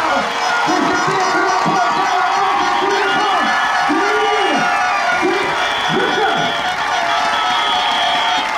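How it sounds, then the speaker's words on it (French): A crowd of supporters cheers and applauds at a women's football cup final as the teams leave the field; steady, dense crowd noise runs throughout, with voices carrying over it. "Elles vont sortir sous les applaudissements du public"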